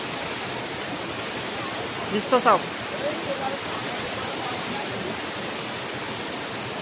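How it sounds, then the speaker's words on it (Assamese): Water pours steadily at Chapanala waterfall on the Champawati, a continuous broadband rush that fills the whole clip, with a brief voice speaking near the middle. "পানীয়ে কুলুকুলু শব্দৰে বৈ আছে"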